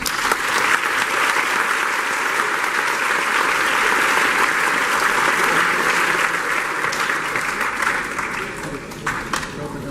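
A lecture-hall audience at a motivational talk gives sustained, dense applause that stays loud and steady for about ten seconds, tapering only slightly near the end.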